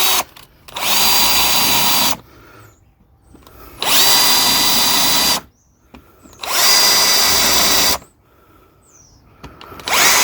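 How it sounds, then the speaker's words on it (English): A power drill drives 4-inch screws into the wood of a bee hotel in three loud, sustained bursts, each lasting a couple of seconds and separated by short quiet pauses. "just a case driving the screws in first"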